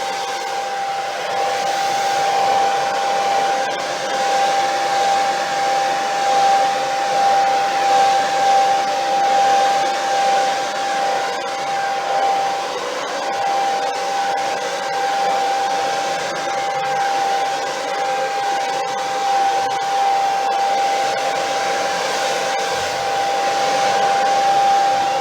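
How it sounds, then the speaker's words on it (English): A hair dryer blows continuously with a steady, even whir and a faint high hum, close by and uninterrupted. "I'm just going to put the hairdryer on a few spots."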